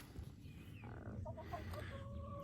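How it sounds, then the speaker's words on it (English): Laying hens clucking softly nearby, a few short murmured calls over a steady low rumble of background noise. "most of these laying hens right here, I can pick them up and pet them."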